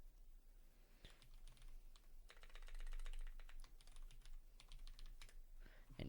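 Typing a terminal command on a computer keyboard while connected to a Pi-hole DNS server, heard as quiet rapid clicking keystrokes in bursts with a few brief pauses, close to the microphone and without talk.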